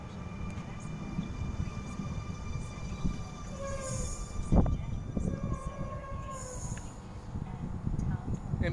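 A Sydney suburban train pulls out of platform 2 at Turrella station, its rumble steady and close with a sharp clank midway and faint high tones above, while a voice speaks over it.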